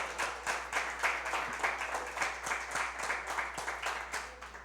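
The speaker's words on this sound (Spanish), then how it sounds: "Un aplauso al Señor." A church congregation applauds during a Spanish-language sermon, steady rhythmic clapping from many hands sustained for several seconds at moderate distance, with a low steady hum underneath.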